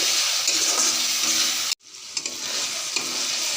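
Spices, turmeric, salt and chopped tomato sautéed in a pan with a loud, steady sizzle and stirring scrapes, cut by a sudden brief silence before the frying and stirring resume.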